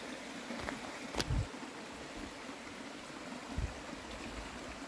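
Steady broadband rush of a brook flowing beside a lunch spot on the Appalachian Trail, continuous and moderately close, with a few brief knocks and splashes over the water.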